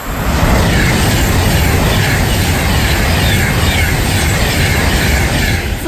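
A Class 390 train on the London Euston to Edinburgh Waverley run thunders through Berkhamsted station without stopping, a loud, continuous close-up roar of wheels and rushing air that holds for the whole passage.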